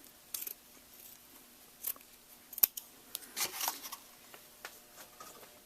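Quiet, scattered scissor snips cut through wire, with a few sharper clicks and metallic taps between them in an otherwise still room.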